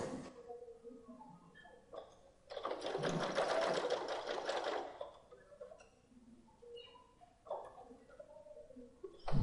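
A domestic sewing machine runs a steady stitching burst of about two and a half seconds while sewing a pocket seam, close and clear, followed by a few short stitches and quiet handling sounds.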